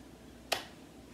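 A single sharp hand clap during a line-dance routine, isolated and close, with faint room tone around it.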